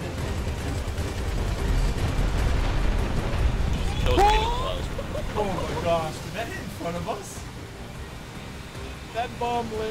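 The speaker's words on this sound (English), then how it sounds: "Bomb landed." A bomb going off in GTA Online during a river chase, a deep rumbling blast that swells and fades into churning water and boat noise, with voices talking over it.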